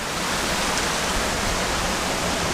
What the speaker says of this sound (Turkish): Her yer şelale.